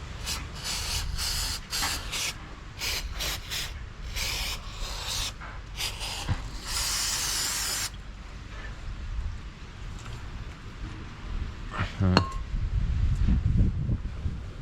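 A spray can hisses in a quick series of short bursts on the chain of a Kawasaki ZX10R motorcycle, followed by one longer spray, then quieter rubbing and handling noises.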